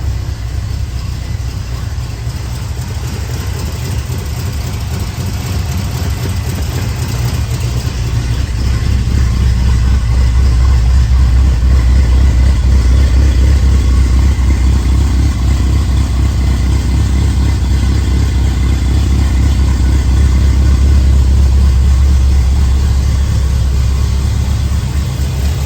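A 1955 Chevy engine with a carburetor and electric fuel pump idles steadily after starting, a loud, continuous low rumble that holds for the whole stretch and swells slightly partway through.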